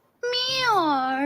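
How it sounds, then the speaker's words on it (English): A cat gives a single drawn-out meow, clear and fairly close, starting after a brief silence and gliding downward as it fades. "Meows."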